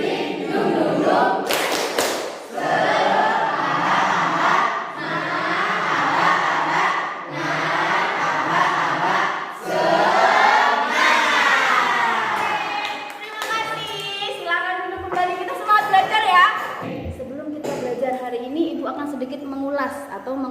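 A high-school class in Indonesia chants and claps the tepuk semangat spirit clap together, loud rhythmic group voices with bursts of clapping and thumps, led by a teacher's voice.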